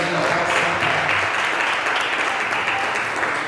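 A church congregation applauds during a Portuguese-language sermon, a dense, steady wash of clapping that holds at full strength for the whole stretch, with no voices rising above it.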